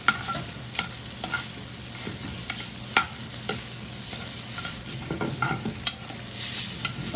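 Butter melting in a hot pan while being stirred for chicken parmesan, a steady soft sizzle with scraping spoon strokes and small clicks spread through, close by with no talking.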